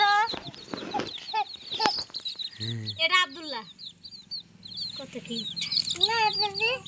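Chickens cluck and squawk at a newly started chicken farm, several birds close by calling in irregular bursts with a few drawn-out cackles, while people talk among them.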